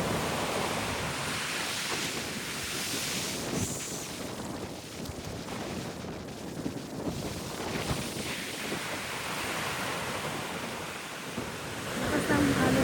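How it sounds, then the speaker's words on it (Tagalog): Strong surf at Jumeirah 1 open beach in Dubai during a windy monsoon-season day roars continuously, with heavy wind buffeting the microphone and faint voices mixed into the wash. "Lakas ng alon guys."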